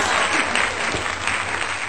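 Loud, close applause welcoming a special guest on a Mother's Day special, a thick continuous burst of clapping from a small group that holds steady for the whole stretch.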